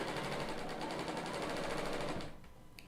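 A Bernina L890 serger stitches fabric in a steady, fast mechanical whir at close range, then stops abruptly near the end, leaving a faint click.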